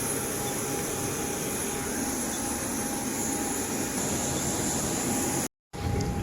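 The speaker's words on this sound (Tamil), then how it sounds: "இதுதான் நம்ம ட்ராவல் பண்ண போகிற ஃப்ளைட்டு." A passenger airplane at an airport gives off a steady, dense engine roar with a broad hiss that fills the whole stretch, broken only by a brief dropout near the end; no voices are heard.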